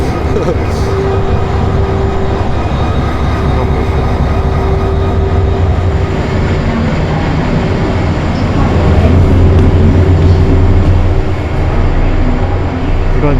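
Steady, loud rumble and rattle of the V-Train, the Baekdudaegan canyon sightseeing train in Korea, running along the track, with a few people talking over the noise.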